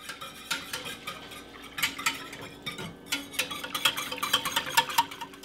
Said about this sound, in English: we're just gonna keep whisking this